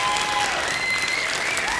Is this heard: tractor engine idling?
no